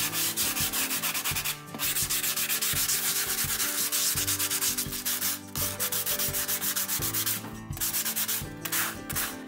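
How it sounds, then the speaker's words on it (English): Continuous rough scraping of a sanding block rubbing back and forth over a painted terracotta flower pot, steady and close, with a few brief pauses between strokes. "some of it we're going to hit with the sanding block"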